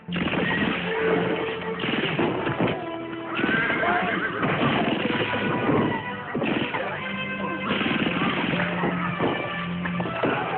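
Horses whinny and neigh repeatedly over a dense, busy film action scene with clip-clopping hooves and occasional crashes, loud and continuous throughout.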